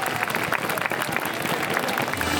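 Concert audience clapping steadily and densely at an outdoor Walpurgis Night show in Högbo, a loud sustained wash of applause throughout.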